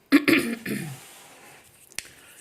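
A person clears their throat twice in quick rasping bursts, followed by a softer trailing rumble and a small click, close and alone.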